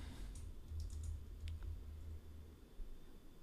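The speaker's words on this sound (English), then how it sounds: "for the city, you can go ahead and type in your city." Keys clatter softly on a computer keyboard while someone types a city name into an online profile form. A short run of clicks sits faint under a steady low hum.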